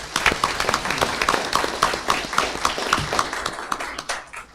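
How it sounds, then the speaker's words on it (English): School board meeting audience gives a short round of applause, a sparse scatter of close hand claps that tapers off over a few seconds. "Can we give them another round of applause?"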